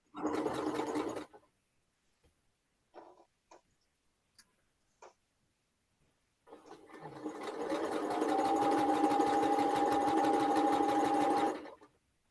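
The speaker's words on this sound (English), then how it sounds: "I'm sewing one corner." A sewing machine stitches one corner of a quilt block, running loud and steady for several seconds after a few short starts and ticks, with no talk over it.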